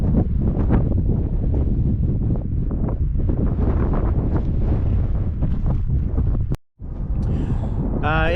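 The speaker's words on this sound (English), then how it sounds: "I'm getting used to the wind in Nevada, so, but it is a little windy." Strong wind on a cold day in the Nevada desert buffets the microphone with loud, gusty rumbling, broken by a brief cut near the end.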